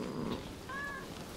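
A cat in the video game Rise of the Ronin gives a short, rising meow over steady game ambience, clear and close.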